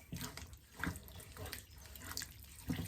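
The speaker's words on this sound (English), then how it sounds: "we're going to add a little bit of water into that" Water runs from a tap and splashes into a cooking pot, a steady close trickle with rising and falling gushes for a few seconds, no voices.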